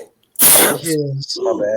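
A man sneezes once, loud and close, on a podcast set, followed immediately by people talking.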